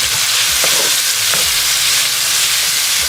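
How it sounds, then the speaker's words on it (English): Garlic and tender vegetables sauté in a hot pan, giving a steady loud sizzle with a few soft scrapes of stirring, without any talk. "Let's saute this for like 30 seconds to a minute."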